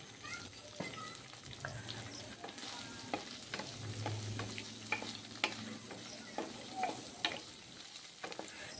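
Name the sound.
paneer pieces lightly frying in oil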